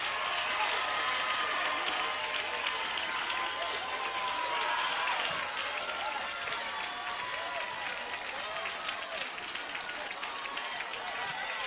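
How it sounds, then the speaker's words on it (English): Church congregation clapping during a praise break, a dense and steady wash of many hands with crowd noise and shouting throughout, somewhat distant and under voices. "your hands should be clapping and your lips should be flapping"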